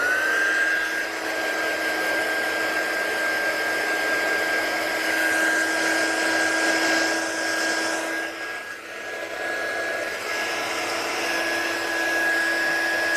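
An embossing heat tool blows and whines steadily while melting embossing powder for a faux wax seal effect, a loud continuous fan roar with a high thin tone above it that briefly dips before resuming.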